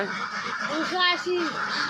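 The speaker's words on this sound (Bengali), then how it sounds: "মনিকা আমাদের খামারে তো এখন মোট কটা হাঁস আছে" Ducks on a farm let out a few short, nasal honking quacks close by, overlapping a voice as he talks.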